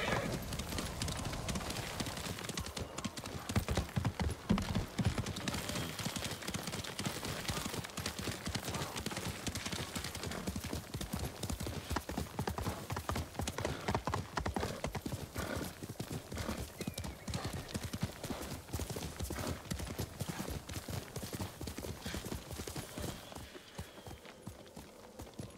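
Continuous rhythmic clip-clop of horse hooves at a steady trot in the video game Ghost of Tsushima, close and even throughout, with a brief whinny early on.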